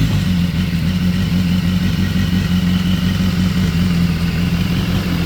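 A 2015 BMW S1000RR sport motorcycle engine runs close by at a steady idle, with a constant low rumble and faint clatter.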